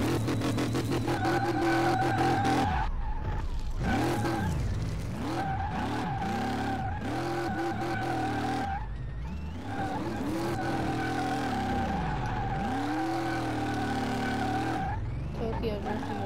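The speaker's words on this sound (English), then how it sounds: "Tokyo drifting it out here, but it sucks." Ford Mustang Mach 1 drifting in Car Mechanic Simulator, with a sustained engine drone rising and falling in pitch as revs swing, plus tire squeal, loud and continuous under someone talking.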